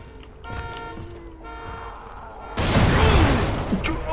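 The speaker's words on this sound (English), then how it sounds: "I'm taking so much damage from these explosions" Explosions in a zombie video game: a sudden loud, broad blast bursts in partway through and rumbles on with crackling debris, over earlier game sounds and horn-like tones.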